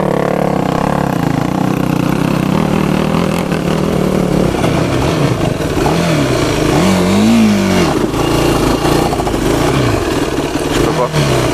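A quad bike engine labours loudly up a steep Alpine climb, revving hard and steadily, with the pitch swelling and dipping in the middle as it strains. Voices talk over the engine.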